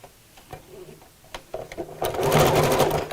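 A sewing machine stitches straight across the corners of a recycled denim scrappy bag, starting after about two seconds of quiet handling clicks and running as a steady, close, fairly loud whir to the end.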